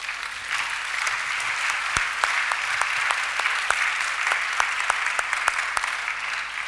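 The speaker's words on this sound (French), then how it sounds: "Acclamons-le" A church congregation at a solemn worship convocation applauds steadily, dense clapping with some louder individual claps standing out, sustained throughout with faint crowd murmur beneath.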